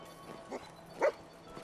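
A dog barks in the video game Fallout 4: two short, faint barks about half a second apart, over a low background hum.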